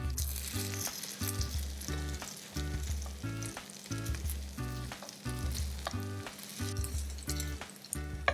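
Paneer pieces fry until golden brown in a pan, giving a continuous soft sizzle that sits beneath louder rhythmic background music.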